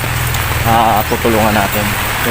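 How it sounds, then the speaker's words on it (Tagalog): Heavy rain pours steadily in a rural Philippine province, a constant broad hiss of downpour with people talking over it. "So, grabe talaga ang ulan."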